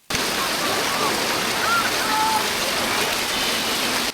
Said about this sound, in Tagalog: Paparating na ulan.